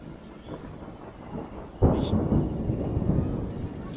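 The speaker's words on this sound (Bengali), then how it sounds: "বৃষ্টি ডাকতেছে।" Thunder rumbles under clouded village skies before a storm: a quiet background at first, then a sudden loud, sustained rolling rumble that continues to the end, with no talk.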